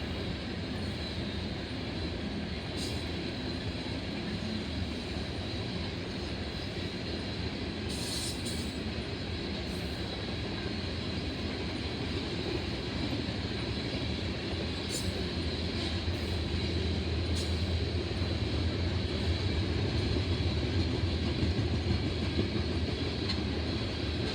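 A train rolls past continuously on the Nickel Plate line near Oak Harbor, Ohio: a loud, sustained rumble of railcars with a few brief high wheel squeals.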